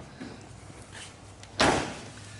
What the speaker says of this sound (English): door closes just like it should